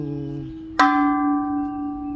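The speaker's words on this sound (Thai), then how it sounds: "ตรงนี้เขามี มีไม้ให้ตีระฆังด้วยนะครับ" A temple bell at Wat Chaimongkol in Pattaya struck once with a wooden stick, giving a sharp clang followed by a long, clear ringing tone that slowly fades.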